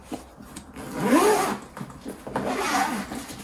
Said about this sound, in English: And then you get into the bag through these top zippers here.